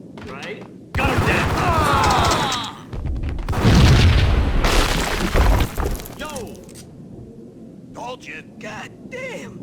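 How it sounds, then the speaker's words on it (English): A loud explosion with booming, shattering debris and bursts of gunfire in the action game Max Payne, a sustained roar swelling and fading, with a voice talking over the chaos. "I thought it was a bomb for sure."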